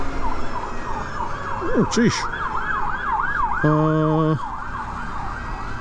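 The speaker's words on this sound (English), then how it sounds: "As 2 police cars turn up on the blues." Wailing sirens of passing police cars sweep up and down over traffic noise, with a brief spoken exclamation partway through and a short horn blast.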